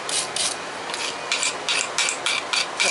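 Gunk being scraped off metal before forging, a close, raspy rubbing and filing sound repeated in quick, uneven strokes throughout, with no talking.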